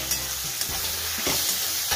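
Salted tempering stirred in a frying pan, a steady oily sizzle broken by a couple of scraping spatula strokes, close and fairly loud throughout.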